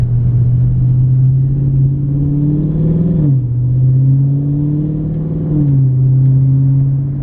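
A Mopar car drives around a roundabout, heard from inside the cabin, engine droning steadily and rising in pitch as it accelerates, then dropping between gear shifts.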